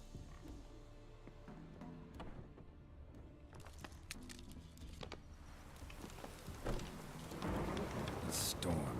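Thunderstorm with steady rain in The Witcher 3, a continuous wash of rainfall with low rumbling thunder that swells louder toward the end, with frogs croaking faintly and a brief muffled voice.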